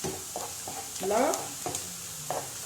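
Onions sizzling in a frying pan while a utensil stirs them in several distinct scraping strokes, close up, with a low steady hiss beneath.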